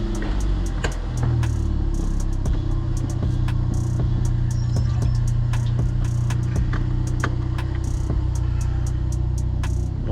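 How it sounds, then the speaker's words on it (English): A Ford Falcon drives on a test drive, a steady close engine hum and rumble from inside the car with occasional clicks and knocks over the drone. "Alrighty boys, let's go for a test drive."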